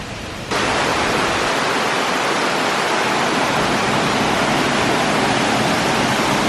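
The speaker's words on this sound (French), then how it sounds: "ça c'est l'eau qui crée la cascade" Steady, loud rush of falling water from a waterfall at a Buddhist temple cave, a dense continuous roar that holds unchanged after a brief quieter start.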